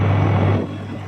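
A small engine drones loudly up close with a steady low hum, then drops in level partway through as it eases off.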